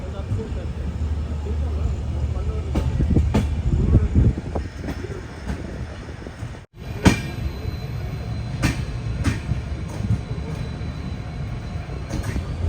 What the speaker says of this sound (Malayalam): കബകപുത്തൂർ റെയിൽവേ സ്റ്റേഷനിലേക്ക് ഇതാ ട്രെയിൻ എത്തിക്കൊണ്ടിരിക്കുകയാണ്